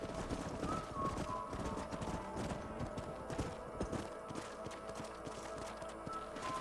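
Horses gallop in the video game Red Dead Redemption, their hooves clip-clopping steadily throughout under a game music bed, with an occasional whinny and a brief shouted voice.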